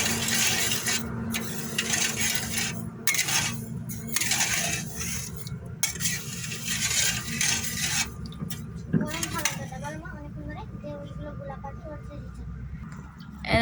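Sugar is worked into chhana in a bowl, producing scraping, rubbing and clinking sounds of hands and utensil against the bowl, irregular and close, which quiet down toward the end.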